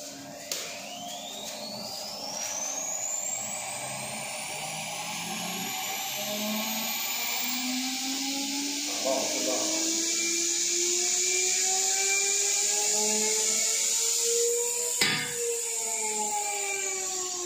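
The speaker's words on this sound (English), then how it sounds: "we set higher RPM to see if our cutting wheels can reach this RPM." A Blueshark golden 115x1.0mm cutting disc spins up on a test rig at ever higher RPM, giving a loud, steady whine that climbs in pitch for many seconds until a sharp crack near the end as the wheel breaks.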